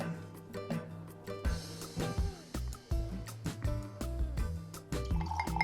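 Never Say Die rye whiskey poured into a glass, a close series of glugging, splashing bursts with liquid drips between them, fairly quiet and without talk.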